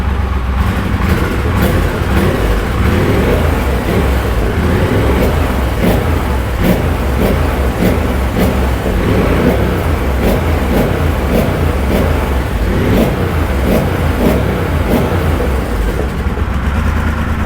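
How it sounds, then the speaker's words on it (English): A Triumph Bobber motorcycle engine runs through a Motone H-Bomb exhaust, loud and close, with a throaty, steady idle broken by repeated throttle blips throughout. "I'm gonna do some blips to hear the exhaust."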